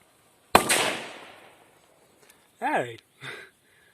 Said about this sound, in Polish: Wiemy, że wybitna petarda.